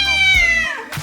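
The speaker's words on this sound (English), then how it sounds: "Surely, they meow, and their meow can be quite loud sometimes." A domestic cat gives a single loud, close meow with a drawn-out, slightly falling tone, followed by a short, softer trailing sound.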